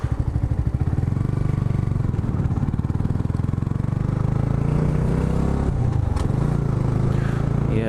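A motorcycle engine runs steadily and close by, its throbbing pulse shifting in pitch as it revs and rides along, with some clatter and scraping but no talk.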